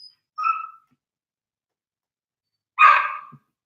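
Dogs bark nearby indoors, with two separate sharp bursts spaced well apart and silence between them, with no talking.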